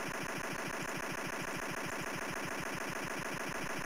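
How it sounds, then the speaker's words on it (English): Rapid gunfire from a retro video game: a fast, steady, machine-like stream of evenly spaced shots runs through the whole stretch without a break, tinny and buzzy, with no voices. "I can't stop shooting. Can't stop firing."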